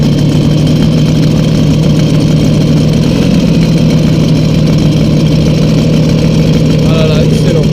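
A Peugeot 103 moped fitted with an 8-cylinder 400cc engine starts at once and settles into a loud, steady, close idle with an even droning hum, while someone talks over it.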